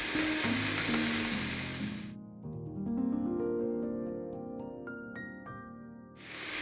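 Boiled cauliflower stalks fry in a pan for a vegetarian chochori, giving a loud, close sizzle for about two seconds. Soft melodic music follows, and the sizzle briefly returns at the end.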